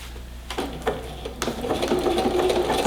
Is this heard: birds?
no